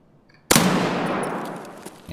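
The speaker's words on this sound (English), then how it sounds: "There was a lot of gunfire going on near me" Gunfire in the video game Escape from Tarkov, a sudden loud burst of rapid shots that erupts and sustains with echoing reverberation, fading slightly toward the end.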